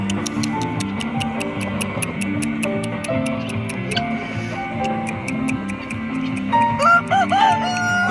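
Several backyard chickens, including Black Marans and Easter Eggers, cluck and chatter in a busy coop alongside a steady ticking, with a louder burst of calls near the end.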